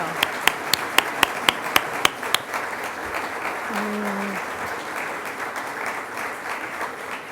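An audience at an annual charity event applauds award winners, opening with a few loud, evenly spaced claps near the microphone, then settling into a broad, steady wash of applause from the room.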